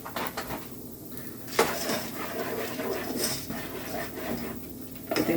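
Spoon scraping and clinking inside a pot while stuffing mix made with margarine is stirred, close repeated metallic knocks and scrapes with an irregular rhythm.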